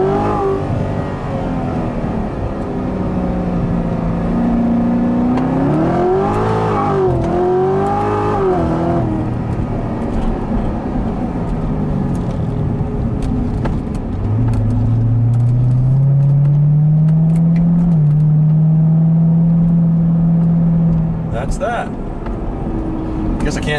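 A supercharged C7 Corvette fitted with an Edelbrock E-Force supercharger revs and accelerates hard in first gear, its engine note rising loud and close from inside the cabin, with a high supercharger whine and a brief shift partway.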